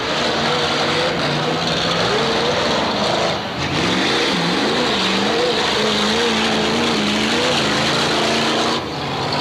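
Demolition derby car engine at a Moses Lake derby, number 26 running rough, revs rising and falling with a loud, wavering drone, briefly dipping twice, alongside other engines nearby.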